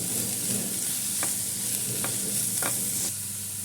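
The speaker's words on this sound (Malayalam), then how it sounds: "ഇതിലേക്ക് കുറച്ച് ഉപ്പ് ഇട്ട് കൊടുക്കാം ബ്രൊക്കോളിയിൽ അതിട്ട് കൊടുക്കാം നല്ലോണം ഒന്ന് മിക്സ് ചെയ്ത് കൊടുക്കാം" Broccoli being stirred with salt in a hot pan while cooking a stir-fry, a continuous steady sizzle broken by a few short scraping strokes of the spoon, close and clear with no voices.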